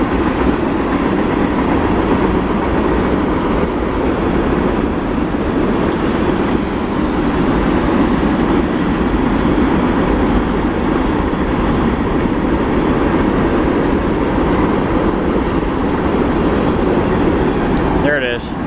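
A train rolls past close by, a loud continuous rumble with a rattling clatter of wagons that stays strong throughout, ending with a brief higher screech near the close.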